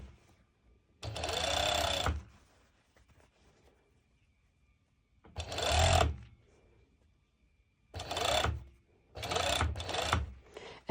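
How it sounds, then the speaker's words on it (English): A serger stitches band fabric for a sporty top in three close, loud whirring bursts: one about a second long, a pause, then two more runs, the last pair split by a brief stop, with quiet gaps between. "whilst I'm serging, I'm actually slightly pulling a little bit obviously my band fabric"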